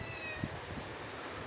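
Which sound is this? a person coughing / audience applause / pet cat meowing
pet cat meowing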